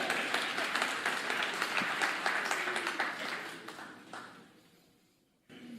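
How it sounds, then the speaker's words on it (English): Audience applause in a church hall during a talk on marriage, a dense wash of clapping that holds steady, thins out and fades toward the end, with a brief voice or noise at the close. "Can you give them a round of applause for being here?"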